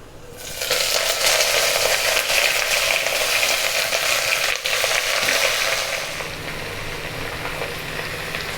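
Mixed leafy greens go into hot oil with dried red chillies, cooked without water, giving a loud, steady frying sizzle and hiss that eases slightly toward the end, with no talking.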